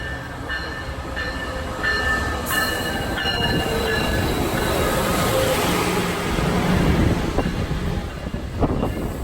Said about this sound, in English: So we decided to take the Surfliner up to Santa Barbara.